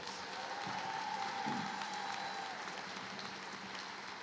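A large audience at a high school graduation applauds in a steady, dense wash of clapping that continues throughout, sounding somewhat distant.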